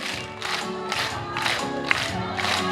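High school students at a recreation session clap together in a steady rhythm, loud repeated group claps falling in even beats over background music.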